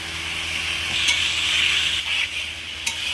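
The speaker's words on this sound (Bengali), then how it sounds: "ভাজা আলুটাও আমি ভালোভাবে একটু কষে নেব।" Fried potatoes stir-fried in a cooked spice paste, giving a steady close sizzle with a few sharp spatula clinks against the pan.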